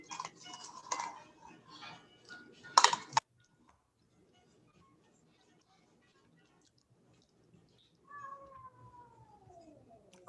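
Cats meow indoors: a loud burst of meows and clatter like dishes or cutlery comes first, then a quiet stretch, and a single drawn-out falling meow arrives near the end.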